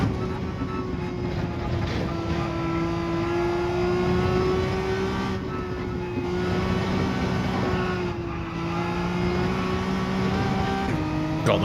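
Race car engine in Gran Turismo 7 on the Lago Maggiore Reverse circuit, a loud sustained whine that climbs and shifts pitch through gear changes while accelerating, steady and close throughout.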